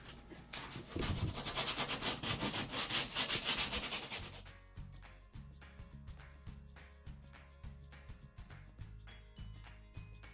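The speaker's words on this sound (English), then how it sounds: "the product recommends using 80 grit sandpaper. And so that's what we're going to do" Coarse 80 grit sandpaper worked over a gash in a Royalex canoe hull, a loud continuous rasping rub at first, then a quicker run of rhythmic back-and-forth strokes, close up with no talk.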